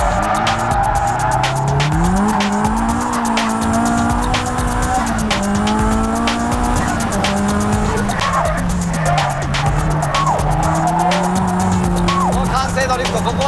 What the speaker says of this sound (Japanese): ハイスピードコーナーは完成ドリフト